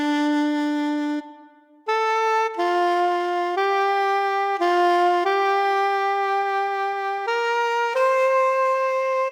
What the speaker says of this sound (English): Let's go ahead and check out what the soprano sounds like.